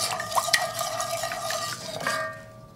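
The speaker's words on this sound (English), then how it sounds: "And mix well until the sugar is well melted." A spoon stirs milk and sugar in a bowl or pot until the sugar melts, for cinnamon roll dough, giving close, steady scraping and clinking that fades out at the end.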